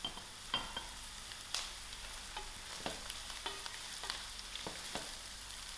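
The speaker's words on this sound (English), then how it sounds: "I'll allow this a few seconds to fry." Garlic and green chilies frying in a pot: a close, even hiss of oil with soft pops and occasional clicks of stirring across a few seconds.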